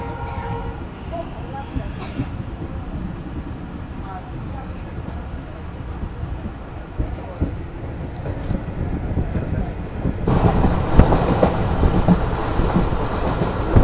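A passenger train on the Agartala to Silchar line runs steadily, with a continuous rumble and rhythmic clatter of wheels on rail heard from inside. The noise grows louder and rougher toward the end, with a voice speaking faintly beneath it.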